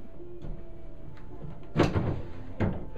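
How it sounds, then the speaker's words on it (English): A wooden dresser drawer slides back into its cabinet with a soft scraping rush and a firm thump as it seats, followed moments later by a second lighter knock, all close by in a quiet room. "We reinsert our drawer."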